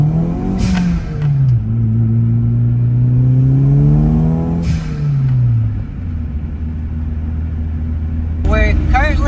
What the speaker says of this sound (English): let's see if we can hear some of that turbo spool